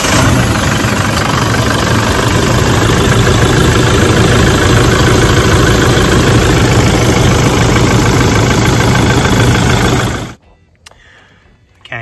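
Toyota Hilux N80 with a 1GD diesel engine running loud and close after a fuel filter change, a steady rough idle with diesel clatter that cuts off abruptly near the end.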